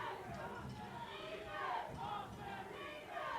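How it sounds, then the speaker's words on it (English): Football crowd at Shea stadium during a Metro State game, cheering in a sustained, loud roar with swelling shouts, under a commentator's voice. "crowd's getting into it"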